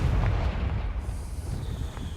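Deep booming burst of the Confringo fire spell in Hogwarts Legacy, a low rumbling blast that fades into dull background game noise.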